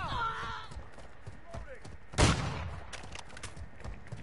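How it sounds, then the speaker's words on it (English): A flash grenade goes off in the Call of Duty video game: a single sharp, loud bang midway through, set against scattered, rapid gunfire-like pops and game noise. "Throwing flash grenades"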